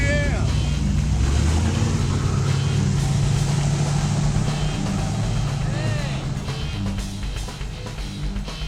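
Steady engine and road rumble from a car being driven, loud and continuous throughout, with faint voices and a few brief tonal chirps riding over the drone.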